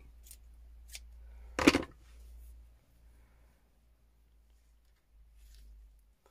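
Scissors snipping fabric for a slow stitch cover kit, one sharp close cut standing out in a quiet room, with a couple of faint lighter clicks before it.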